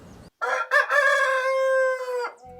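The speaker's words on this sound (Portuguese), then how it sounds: "O galo já cantou." A rooster crows once, loud and close, in a long drawn-out call on a poultry farm raising New Hampshire and Barred Plymouth Rock chickens, with a short quiet lead-in and nothing else around it.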